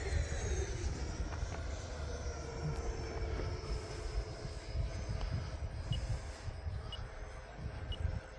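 E-flite Viper 90mm RC jet flying overhead, a steady distant turbine-like whoosh with a faint high whine, continuous and fairly even in level throughout.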